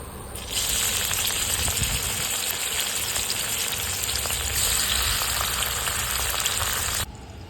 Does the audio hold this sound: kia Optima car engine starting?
no